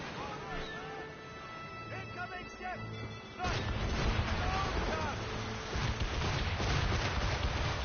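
Ship cannons boom in a naval battle in Assassin's Creed Rogue Remastered, heavy blasts over rushing wind and sea noise, with a loud burst midway and the rumble continuing after.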